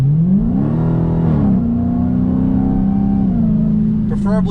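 A 2020 Dodge Challenger Hellcat with its supercharged Hemi V8 and aftermarket exhaust revs loud and near, the engine note climbing, holding a steady pitch, then dropping, with a voice talking over it.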